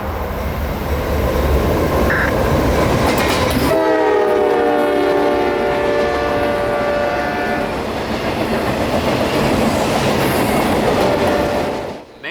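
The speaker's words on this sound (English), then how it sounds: "Only 5 minutes passed before the work train showed up." A CSX maintenance-of-way work train passes at night, its horn sounding loud and sustained in a long blast over the heavy roar and rumble of the moving train, which continues steadily throughout.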